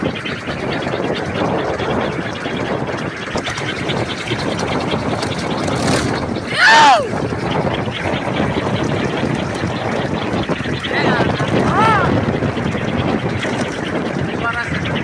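Strong, furious wind buffeting a kolecer batu kasur, a spinning wind toy, as a loud continuous roar with brief whistling whirs rising out of the rush.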